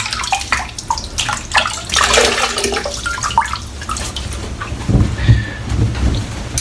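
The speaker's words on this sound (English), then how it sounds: "Warm water today because it is freezing." Warm tap water splashes and gurgles into a basin nearby, a steady churning flow that deepens toward the end.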